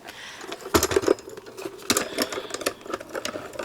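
A Marquee die-cutting machine is cranked by hand with cutting dies inside, giving a run of mechanical clicks and clattering rattles that come in close bursts over a few seconds.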